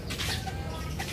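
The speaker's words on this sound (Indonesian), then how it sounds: "Ini ayam kate." Bantam chicken clucking at an outdoor family pool area, a short run of soft, close clucks over steady background noise.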